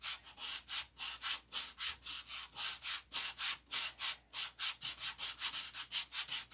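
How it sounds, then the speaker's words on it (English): Rhythmic back-and-forth strokes of hand sanding on wood, roughly two to three passes per second, steady and close with a dry abrasive rasp on each stroke. "I've been sanding and tinkering all day."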